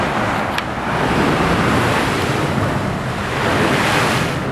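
Big spring-tide waves break at Saint-Malo in a continuous loud roar of surf, with heavy wind buffeting the microphone and no pause in the wash of water.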